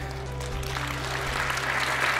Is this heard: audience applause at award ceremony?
yes